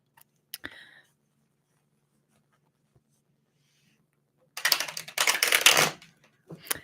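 Tarot cards being riffled and shuffled close by in two dense bursts of crisp, rapid flutter, with a few light taps before and quiet between.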